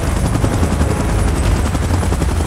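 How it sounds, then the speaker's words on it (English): A helicopter in the PUBG Mobile Godzilla event, a loud, close, rapid rhythmic rotor chop that pounds steadily throughout, with no speech. "Chopper in position."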